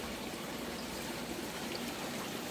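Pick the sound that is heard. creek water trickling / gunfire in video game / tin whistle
creek water trickling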